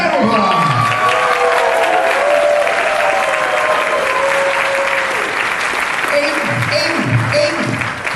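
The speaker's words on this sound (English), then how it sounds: "Round of applause." A crowd at a Doctor Who fan convention costume contest applauds loudly for an entrant, steady dense clapping with some cheering and whistles rising through it.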